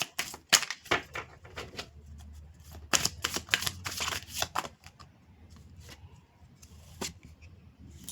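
Tarot cards riffled and handled while one is drawn from the deck, a busy run of crisp papery snaps and flicks, close and fairly loud, with no talking.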